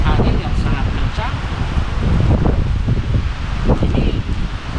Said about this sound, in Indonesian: dengan angin yang sangat kencang